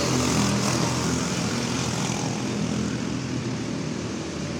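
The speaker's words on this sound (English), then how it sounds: "These are Predator engines." Several racing karts with Predator engines at a kart nationals event, droning loudly and continuously as they run a field race, a steady buzzing engine roar throughout with no talk.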